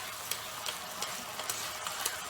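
Ginger-garlic paste sautés with spices in a pan for Himachali pahadi dal, a faint, even hiss of frying with light, regular stirring ticks, close and quiet, no voices.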